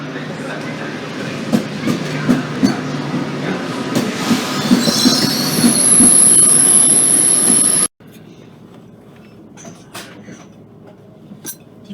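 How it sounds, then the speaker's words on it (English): A EuroCity passenger train in Italy rumbles along the rails with rhythmic clacking and a rising high-pitched wheel squeal, then the sound drops sharply to a quieter interior hum with occasional clicks. "I'm on the Eurocity train"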